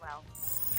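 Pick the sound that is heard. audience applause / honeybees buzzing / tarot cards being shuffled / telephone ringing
telephone ringing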